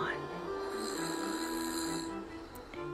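A reader's voice imitates a bear snoring during a storybook reading, producing drawn-out, rumbling nasal snores close to the microphone.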